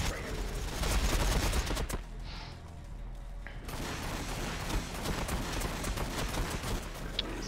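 Ork boys firing their guns in Warhammer 40K Battlesector, a dense, continuous clatter of many shots with a brief quieter gap near the middle.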